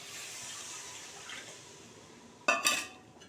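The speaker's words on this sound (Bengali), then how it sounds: "এই যে এক বাটি জল দিয়ে দিচ্ছি" A bowl of water tipped into a cooking pan for a fish and bean curry: a short, bright splash near the end that breaks over a steady soft background hiss and fades quickly.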